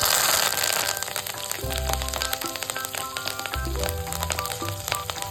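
Cumin seeds, chopped green chillies and curry leaves spit and crackle in hot ghee with a dense, continuous sizzle. Two heavier surges of spattering land about halfway through.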